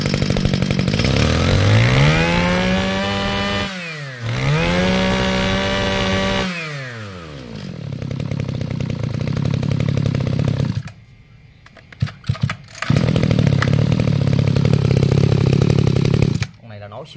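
Gobin 232 two-stroke Japanese brush cutter engine revving up and down loudly nearby, with rising and falling pitch sweeps, a brief cutoff, then a steady high idle under occasional talk.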